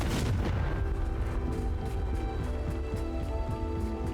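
Confringo spell blasts in Hogwarts Legacy, deep rumbling explosions rolling into one another with a heavy opening boom and repeated thuds.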